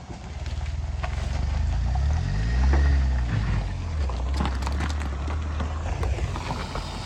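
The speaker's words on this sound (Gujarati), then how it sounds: "જો અમારી બીજી ગાડી બી આવે છે." A car climbing a hill road toward Turkheda, its engine rumble swelling as it draws near, peaking loudly, then easing into a lower steady drone.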